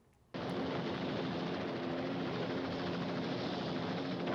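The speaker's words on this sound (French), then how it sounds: "on sent que l'hélicoptère est en train de descendre" A helicopter descends in a Superman film scene, a loud, steady rotor roar with a dense, rapid beating that starts abruptly and holds at close range.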